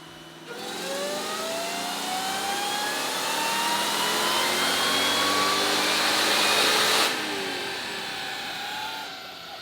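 A Hellcat-engined Miata revs hard on a dyno, its engine note climbing steadily in a loud, sustained pull for several seconds, then dropping off sharply as the throttle closes, leaving a quieter idle hum.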